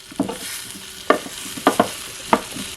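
A utensil stirs vegetables roasting in a Nesco 4-quart roaster oven, making a few sparse scraping and clacking strokes against the pan over a soft background hiss, with nobody speaking.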